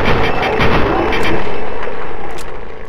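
Rapid gunfire from a Protectron robot in Fallout 3, a dense burst of loud close shots and booming impacts filling the whole moment without a break.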